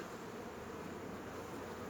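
Steady, dense buzzing of many honeybees at a hive fitted with a pollen trap, a continuous close hum with no talk.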